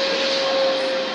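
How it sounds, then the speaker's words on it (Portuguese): A wet vacuum cleaner sucking water off a laminate floor, a loud, steady whining roar with a sharp constant tone that holds unbroken throughout, close by and without talk. "aspirador de água e vamos recolher, né, todos os cantinhos"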